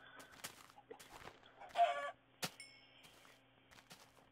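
Minecraft chickens clucking in short, sparse bursts, fairly faint and separated by quiet gaps, with a few soft game clicks around them.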